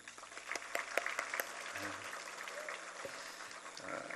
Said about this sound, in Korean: 다시 한번 성가대 박수로